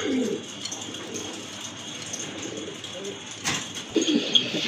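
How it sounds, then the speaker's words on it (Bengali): A pair of black exhibition pigeons gives soft, low coos scattered across the moment, close but quiet, with a brief louder rustle and faint background talk. "খুবই সুন্দর কোয়ালিটিফুল, একদম ফ্রেশ আর অ্যাক্টিভ এক জোড়া এক্সিবিশন কবুতর"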